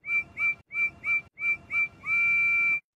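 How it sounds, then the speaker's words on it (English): A cartoon train engine whistles in short paired toots, three pairs in an even rhythm, then one long sustained blast, clear and close with no talking. "You know I can whistle at you all the time."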